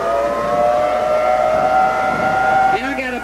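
A civil defense siren wails loud and steady nearby, its sustained tone holding for several seconds before dipping and rising again toward the end.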